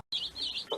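Young meat chickens give a brief burst of close, high-pitched cheeping and soft clucking, with several birds calling over one another.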